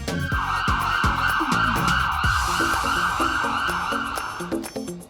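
Wailing siren of a toy police car in a children's cartoon, a loud continuous rising and falling tone over rhythmic musical accompaniment for about five seconds, with no talking.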